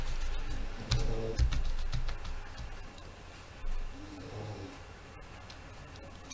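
Oracle cards cut and spread out on a table, with soft rapid shuffling and papery clicks up close and a faint voice in the background.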